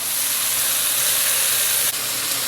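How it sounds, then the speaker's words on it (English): Rum poured to deglaze vegetables in a hot pot for beef stew, a loud continuous steamy sizzle and hiss close up, with a brief dip near the end. "we're going to deglaze with a little bit of rum"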